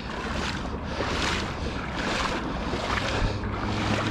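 Floodwater flowing deep enough to swamp bicycle pedals, a steady broadband rush of moving water with wind buffeting the microphone, loud and continuous throughout with no pauses or talk.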